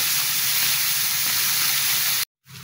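Baim eel fish sizzle in hot oil, a dense, even hiss heard up close that runs continuously before breaking off abruptly near the end.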